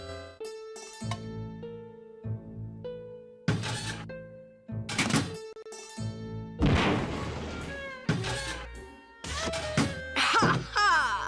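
A bomb detonates in the adventure game Grim Fandango, giving a sudden broad, rumbling burst partway through, surrounded by game music and short tonal effects.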